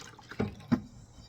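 Water emptied out of a plate, two brief splashy drips close by against a quiet room background.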